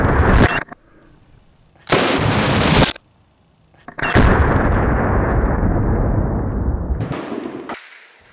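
A semi-auto Marauder air rifle shot bursts a Kaboom target cap on a bottle pressurized to 100 pounds at a gender reveal, releasing loud, harsh blasts that rush on for a second or more, separated by near silence.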